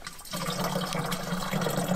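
Water runs from the spigot of a 50-gallon rain barrel in a steady splashing stream that gets a little louder as it goes, with no one speaking.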